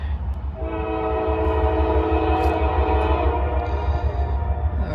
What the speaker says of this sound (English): It's like a tanker train.